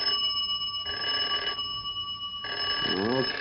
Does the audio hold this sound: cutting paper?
no